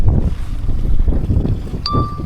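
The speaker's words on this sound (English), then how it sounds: "It's getting windy." Steady wind buffets the microphone outdoors on open water where motion duck decoys are set out, a continuous low rumble with a brief electronic beep near the end.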